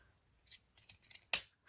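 Several quick scissor snips trimming a ribbon while making a fishtail hair bow, close and crisp with short pauses between cuts, the last snip loudest, no talking.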